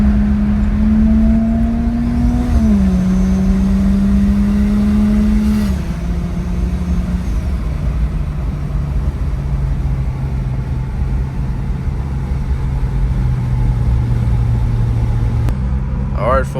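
A turbocharged, 20-year-old Lexus GS300 sports sedan drives along a road, its engine droning steadily and close up, with a brief pitch drop like a gear change before it settles into a lower, even hum.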